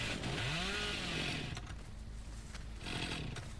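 A chainsaw revs in Dead by Daylight, a rising buzzing whine that roars briefly then drops to a rough idle under a gritty, noisy background.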